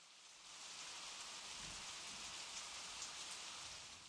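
Rain pattering steadily against window glass in a cartoon, a soft, even wash of drops without pauses.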